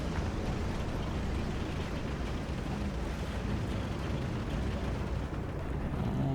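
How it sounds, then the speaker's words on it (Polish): Artillery striking a heavy tank in the tank-combat game War Thunder, heard as a continuous low rumbling roar with dense, booming energy that stays fairly steady throughout, without any talking. "Wyrzucam artylerię na ciężki czołg."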